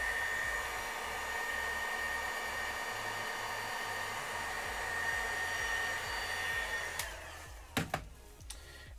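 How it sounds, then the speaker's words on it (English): Hairdryer blowing steadily on freshly painted Warhammer tabletop terrain, a loud continuous whine and rush that cuts off near the end, followed by a few clicks and knocks. "I'm gonna hit these with the hairdryer."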